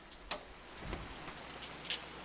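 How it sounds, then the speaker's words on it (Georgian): Spring rain falling outside a house, a soft, steady patter with a few sharper drops standing out, fairly faint and with no voices. "გაზაფხულის წვიმაა, რა გააციებთ."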